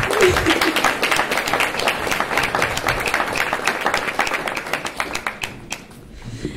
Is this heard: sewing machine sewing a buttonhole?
no